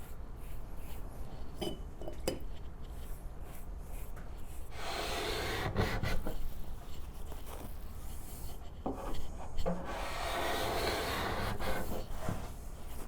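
Rough, abrasive sanding strokes on a wooden table being refinished, coming in a few long, raspy bursts with quieter scraping and handling noises between them.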